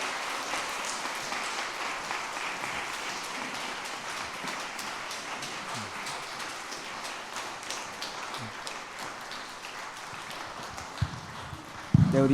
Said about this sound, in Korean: 우리 들어갈 때까지 박수 계속 쳐주시면 우리 아이들에게 큰 힘이 될 것 같습니다.